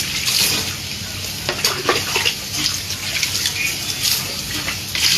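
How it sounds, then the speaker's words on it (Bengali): Cold water running from a tap during a bath, a steady, close rush of splashing water with uneven surges and no talk. "ঠান্ডা ঠান্ডা পানি।"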